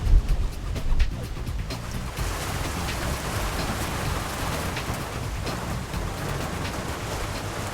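Steady rain from a pop-up thunderstorm pours down in a continuous broadband hiss, with a few heavier gusts near the start; no distinct thunderclaps stand out.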